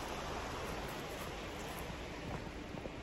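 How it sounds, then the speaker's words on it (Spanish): Broadband rushing water of the Guelatao river in Oaxaca, a steady, close, even wash of flowing current with no voices. "El río."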